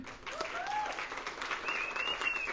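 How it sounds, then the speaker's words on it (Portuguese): Warm audience applause at a book launch lecture in Portuguese, a steady wash of many hands clapping throughout, with a couple of faint whistles rising through it. "Vamos aplaudir Bruno Bettini."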